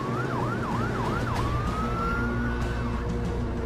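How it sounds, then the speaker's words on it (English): Wailing emergency vehicle siren responding to a plane crash at an airport, a steady rising and falling tone with a long sustained sweep, loud and continuous over low engine rumble. "emergency vehicles are responding."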